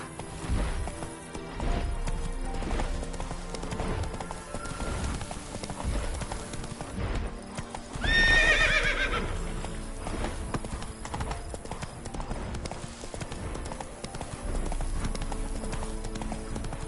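A horse in The Witcher 3 gallops with fast, continuous hoofbeats and lets out one loud whinny midway, with game music and effects in the background.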